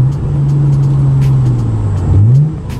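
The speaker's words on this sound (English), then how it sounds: "Let's see a downshift." A Hyundai Genesis Coupe engine drones loudly, its pitch dropping then sweeping back up as it downshifts, with a few faint exhaust pops.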